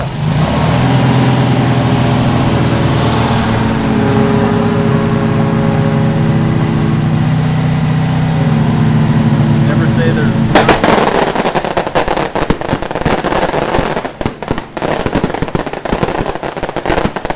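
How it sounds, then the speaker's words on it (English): A beer truck's engine on a street in Vila, Ilhabela, Brazil, rumbles loud and close with a steady tonal drone, then turns into a rough, rattling clatter for the last several seconds. "And here's the beer truck."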